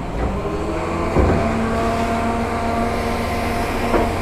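At an auction yard, a Doosan excavator's diesel engine runs close by with a steady, rough low rumble and faint harmonic whine, settling toward idle with no talking over it.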